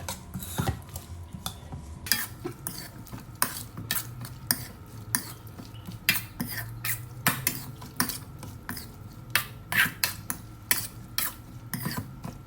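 Pork belly salad being tossed with lemongrass and sliced garlic in a bowl, a steady run of close clinks, scrapes and stirring knocks from the utensils, with no talk.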